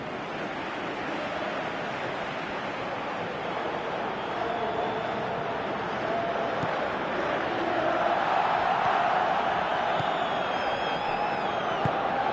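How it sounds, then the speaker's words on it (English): Stadium crowd noise from the PES 2018 football video game, a broad steady roar that swells louder partway through, with faint murmured commentary underneath. "you can feel and hear how the crowd are reacting to all of this"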